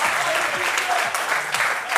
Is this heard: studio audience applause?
yes